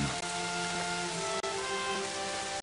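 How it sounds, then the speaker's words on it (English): Steady rain falls on a hard surface, a continuous dense hiss with faint low hum beneath and no voices. "The rain drives on."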